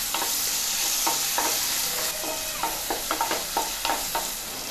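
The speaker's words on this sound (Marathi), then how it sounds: "4 लवंग, थोडासा तेजपत्ता, हे सगळं आपण फोडणीला घालून ढवळून घेऊया." Cloves and a bay leaf stirred through hot oil as a tempering for egg curry: a steady sizzle underneath, with repeated scraping strokes of the spoon growing busier toward the end.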